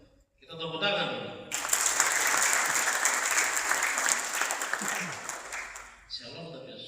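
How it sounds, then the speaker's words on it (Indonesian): A crowd at a government program event in Central Papua breaks into loud, sustained clapping that swells and holds for several seconds before fading, with a speaker's voice briefly before and after. "Kita tepuk tangan."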